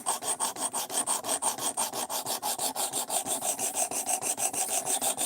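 Sandpaper of 220 grit rubs back and forth over material in quick, even strokes, a steady rasping rhythm of roughly four or five passes per second, close and continuous with no talk.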